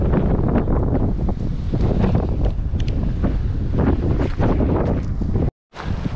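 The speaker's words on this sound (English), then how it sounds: "it's been pretty windy from Mono all the way down to Convict" Strong gusty wind buffets the microphone beside a full lake along the eastern Sierra between Mono and Convict, a loud continuous rumble that cuts out abruptly near the end.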